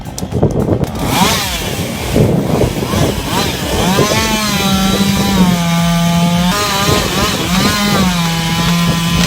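A big chainsaw cuts into a tree, its engine loud and close with a continuous whining roar that rises and falls as the throttle revs under load.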